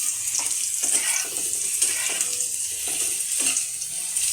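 Ginger, garlic and green chili frying in oil in a pan, a steady close sizzle and hiss that runs throughout without pause.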